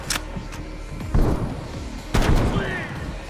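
Two bursts of Krig assault rifle gunfire in Call of Duty: Black Ops Cold War ring out about a second apart, each a sharp crack with a short rumbling tail over a steady background bed.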